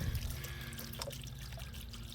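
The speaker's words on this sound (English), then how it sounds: "letting all this water out" Water draining out of a backyard pond as it is emptied for repair, a soft continuous trickle and pouring close by, fairly quiet, with no talking.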